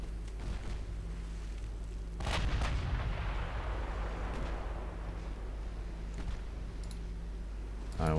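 Naval gunfire from a ship's secondary guns in the warship game Ultimate Admiral Dreadnoughts: a deep, booming salvo rolls out and decays, with a few sharper distant reports and clicks scattered after it over a low rumble.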